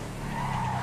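A video game car brakes hard and skids, giving a short, loud, steady tire squeal over engine rumble with no speech.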